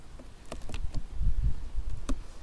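Honeybees hum low and steady around an open hive, with scattered clicks and knocks from handling close by.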